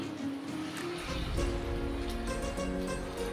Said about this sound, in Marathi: आता आपण ह्याच्यामध्ये पाणी घालूया. गरम पाणी आहे.